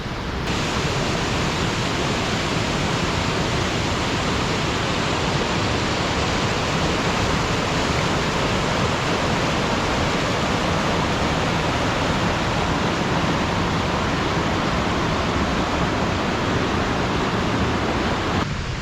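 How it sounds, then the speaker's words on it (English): Evolution Creek on the John Muir Trail cascades down in waterfalls, making a constant, close, full roar of rushing water with no pauses and no voices. "the creek continues to cascade down as we lose elevation here"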